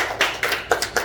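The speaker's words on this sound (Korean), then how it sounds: "환영의 박수로 맞이해주십시오" A church congregation claps to welcome newcomers at a Sunday service, a brief burst of a few separate claps from nearby.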